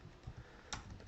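A computer keyboard typed on during SQL work: a few quiet, close key clicks over about a second, with one sharper tap standing out, no talking.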